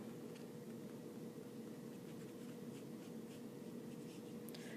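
Pen or marker scratching steadily while writing out a math equation during a tangent-line lesson, soft close strokes over a constant low hum of room noise, with no talking.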